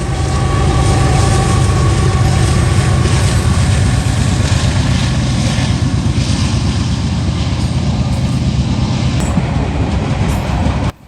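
A freight train rolls past with two Union Pacific GE locomotives, an ES44DC and an AC44CW, mid-consist: a loud, steady rumble with continuous clickety-clack of wheels on rail joints for the whole stretch, close by and alone, cutting off abruptly at the end.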